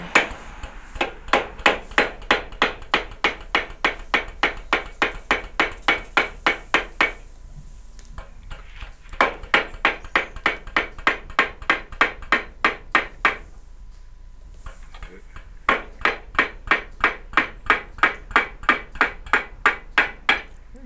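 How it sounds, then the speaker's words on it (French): Steady metallic hammer taps drive a seized trailer wheel bearing into place, coming in three long runs of even, ringing blows separated by short pauses, loud and close with no talk. "Donc là je tapote jusqu'à temps d'être embuté."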